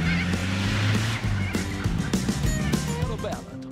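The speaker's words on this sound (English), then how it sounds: "Chicken got caught in the tape and it's gone." A chicken squawks and honks in agitated bursts after getting caught in tape, close and loud, mixed with overlapping voices and commotion.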